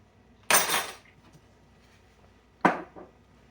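White pepper is stirred into a shrimp and crab chowder with a spoon knocking the pot: two distinct clinks and scrapes, the first longer, the second sharper and followed by a softer tap, all close and with no talking.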